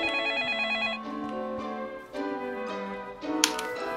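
A telephone rings repeatedly in a Minecraft family role-play skit parodying Crayon Shin-chan, a bright electronic ringtone repeating in short melodic bursts with no talking over it.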